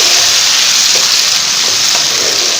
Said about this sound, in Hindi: मैं यहाँ पर डालूँगी टमाटर।